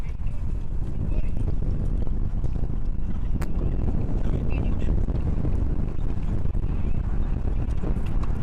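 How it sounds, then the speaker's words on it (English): Heavy, gusting wind roars across outdoor tennis courts in Arizona during an NCAA tournament match, a constant loud buffeting that dominates the scene with no clear gaps. "Heavy wind, choppy at that Arizona courts"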